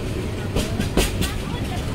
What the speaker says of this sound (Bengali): বিকেল 4:50 ট্রেন চলে আসলো হারসপুর রেলওয়ে স্টেশন।